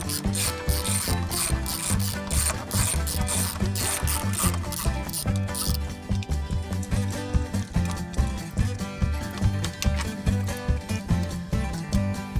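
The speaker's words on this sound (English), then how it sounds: "I'm gonna put this bolt right here with my tool because it's the first one that will go on." A hand tool ratchets as a bolt is tightened on a Ford Bronco, with rapid repeated metallic clicks in bursts that slow into separate ticks toward the end, close and loud, with no talking.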